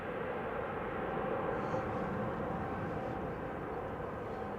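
easyJet Airbus A321 at Manchester Airport giving off a faint, distant, even engine rumble that stays steady the whole time with no talking.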